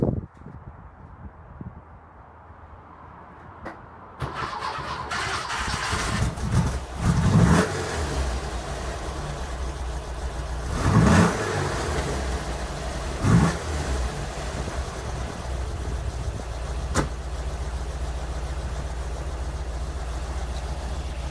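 A 1970 Porsche 914 with a 2056cc rebuilt engine and Weber 44 IDF carbs cranks, catches and settles into a lumpy idle, with several sharp throttle blips rising over the steady rumble, close and loud.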